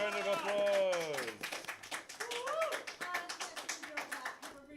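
People give a round of applause after a cheerful voiced whoop, with quick, light, rhythmic clapping under intermittent talking and exclamations.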